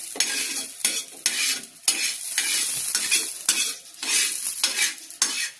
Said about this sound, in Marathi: तेजपत्ता टाकलाय, कस टाकते थोडीशी। मसाला भाजलाय आता काढून घेते।